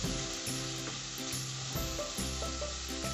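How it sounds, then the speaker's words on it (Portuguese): Bacon and garlic fry in a pan with a steady, crackling sizzle that continues throughout, alongside some stirring and a faint tonal hum in the background. "fritar junto com esse bacon"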